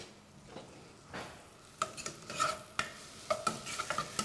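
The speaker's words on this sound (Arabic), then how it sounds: "مندبن البصل والثوم مزبوط حتى يصيروا اللون اشقر" Onion and garlic frying in a pan, a soft continuous sizzle that grows busier with sharp spatula clicks and scrapes against the pan, close and moderately quiet.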